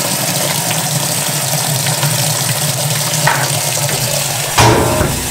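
A cold water tap runs into a container for cleaning sneakers, a continuous close rush of filling water with a low mechanical hum beneath and a brief louder splash near the end.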